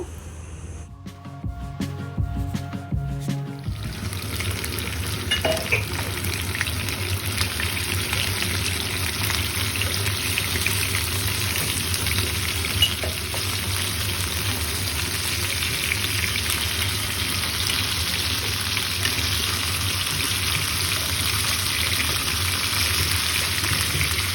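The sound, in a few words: water poured into pot of moong dal khichuri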